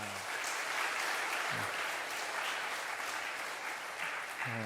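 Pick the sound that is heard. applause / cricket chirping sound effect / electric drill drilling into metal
applause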